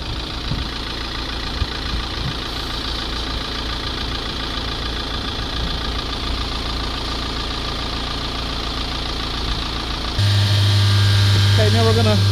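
Mercedes diesel engine with high exhaust back-pressure idling steadily, loud and close, then held at higher revs near the end with a deeper, stronger drone.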